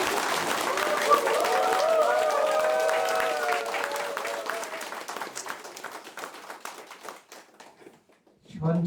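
Sustained applause from a press-conference audience greeting a former National Assembly member in Dangjin, South Korea, loud and steady from the start and thinning toward the end, with a voice starting to speak at the close.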